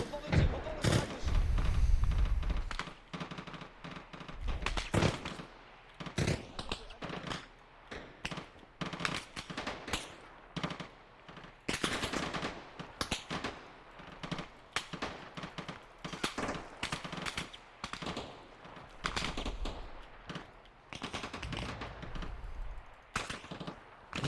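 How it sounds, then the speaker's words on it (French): Gunfire in the military shooter Arma Reforger, set in 1980s France: repeated sharp bursts and single cracks, some loud and close, others fainter, scattered irregularly across the stretch, mixed with quiet radio-style voices talking in French. "J'ouvre le feu."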